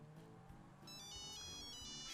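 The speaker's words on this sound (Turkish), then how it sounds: "Şu an telefon çalıyor." An in-game mobile phone ringtone in Grand Theft Auto V, a bright repeating melodic ring that starts after a moment of quieter game ambience and keeps ringing at moderate volume.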